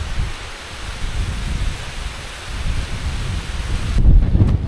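Strong wind on a cold winter mountain near a frozen tarn, a loud continuous rushing roar buffeting the microphone, with heavier low gusts near the end.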